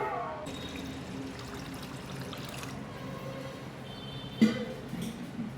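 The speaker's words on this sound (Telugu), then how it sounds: "ఇలా రవ్వలోని వాటర్ అంతా వంపేసుకొని మళ్ళీ వాటర్ పోసుకొని నానబెట్టుకోవాలి" Water is poured off soaked idli semolina in a faint, steady trickle, with a brief clatter near the end; otherwise quiet.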